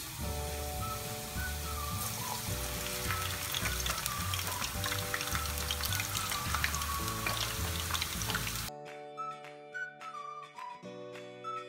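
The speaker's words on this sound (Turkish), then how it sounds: "patatesleri bu şekilde ince ince dilimleyip kızartıyoruz" Oil sizzles and crackles steadily as thinly sliced potatoes fry, with a repeating musical melody playing over it; the sizzling stops abruptly near the end, leaving only the music.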